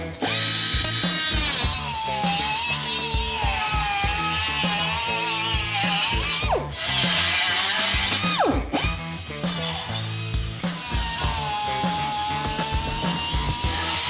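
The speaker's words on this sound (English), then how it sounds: "So I'm gonna be using one of these straight die grinders with a cutoff wheel on the end of it." Straight die grinder with a cutoff wheel slicing through truck metal during a Chevy Silverado build, a loud continuous high-pitched whine and screech running nearly nonstop, with brief dips where the wheel lifts off the metal.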